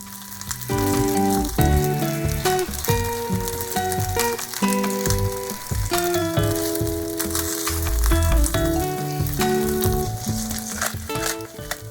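Steady, crackling sizzle of tofu cubes frying in hot oil, with scraping and clinking from a spatula stirring the pan.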